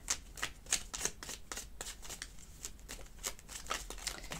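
A deck of small Lenormand cards shuffled by hand for a tarot-style reading, giving a steady run of crisp riffling flicks close up with no talking over it.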